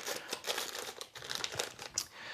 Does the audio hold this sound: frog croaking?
no